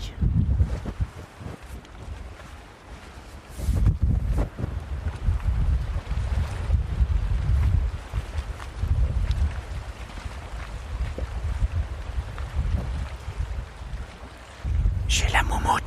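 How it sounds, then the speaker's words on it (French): Wind blowing outdoors buffets a furry-windscreened microphone, giving a steady low rumble that swells into stronger gusts near the start and again at the end. "Je sais pas si on va entendre le vent."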